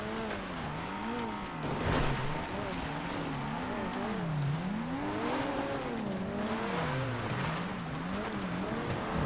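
A Dominator muscle car in GTA 5 drives with a continuous engine note that rises and falls in repeated revving sweeps, loud and close, with a person talking over it.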